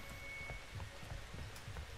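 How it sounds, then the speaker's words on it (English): Rain falling in the horror game Outlast 2, a faint soft patter of drops with light irregular taps, quiet and steady, with no voices. "It's like he doesn't even notice it's raining blood."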